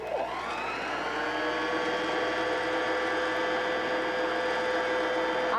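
A longarm quilting machine stitches a feather pattern, giving off a steady close whirring motor hum with a sustained high mechanical whine that holds even throughout, and no talking.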